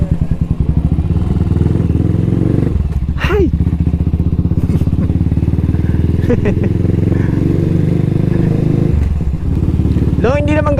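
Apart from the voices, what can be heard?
Cafe 400 motorcycle riding on the road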